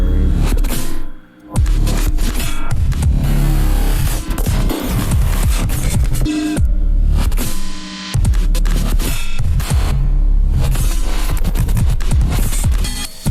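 Dense, stuttering hyperglitch electronic music with glitchy chopped bursts, heavy bass and abrupt cut-outs, loud and unbroken by talk.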